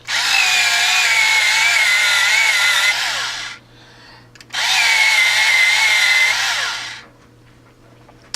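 An electric pencil sharpener grinds a mahogany-coloured Crayola coloured pencil in two loud, steady whirring bursts of about three seconds each, separated by a brief quiet gap.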